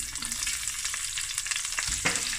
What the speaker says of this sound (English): I'm going to add 3 fresh chilies and the onions